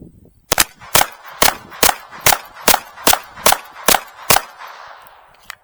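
An FN 502 pistol fitted with a red dot fires ten evenly spaced, sharp, close shots in a steady rhythm, followed by a brief trailing rustle.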